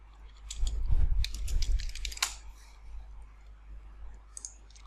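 Computer keyboard typing, a burst of rapid clicks for about two seconds, then sparse single keystrokes, close and fairly quiet in a still room.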